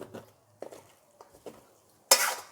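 A metal lid is lifted off a cooking pot with a few light clinks and taps, then a sudden burst of loud sizzling steam as the pot opens, close by and without talk.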